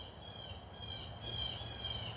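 Birds squawk outdoors, faint and distant, a few raspy calls heard over a quiet background hiss with a high insect-like drone.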